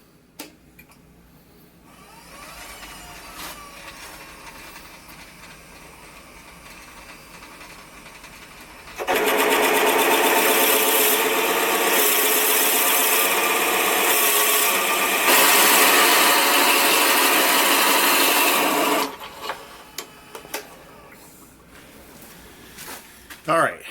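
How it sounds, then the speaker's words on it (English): A 1 5/8 inch Forstner bit cores out the center of an oak cup blank, giving a steady loud whirring, grinding drill roar for about ten seconds, framed by quieter shop handling before and after. "I am going to take a 1 5/8 inch Forstner bit to core out the center of this"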